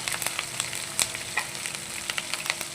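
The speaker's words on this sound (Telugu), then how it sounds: "ఒక స్పూను అల్లం వెల్లిపాయ పేస్టు చక్కగా ఫ్రై చేసుకోవాలి" Green chillies with ginger garlic paste fry in a pan, a steady close sizzle with sharp spits and crackles scattered throughout, no voices.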